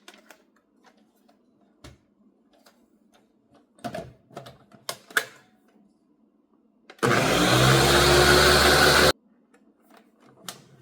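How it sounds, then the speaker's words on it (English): A blender blending herbs whirs loudly for about two seconds, a dense high-pitched roar that stops abruptly, with quiet clinks and taps before and after. "and then we're gonna blend it."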